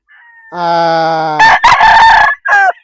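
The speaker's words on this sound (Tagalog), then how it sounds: "this one is our broodcock from Sir Bonbon Estrada" A gamefowl broodcock rooster crows loudly and close, one long harmonic cock-a-doodle-doo call breaking into rough bursts near the end, with no talk.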